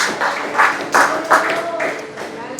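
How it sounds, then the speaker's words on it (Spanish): Church congregation applauding, with scattered bursts of clapping and a few stronger swells, fairly near, mixed with voices underneath. "habrá alguien que pueda darle un aplauso al Señor"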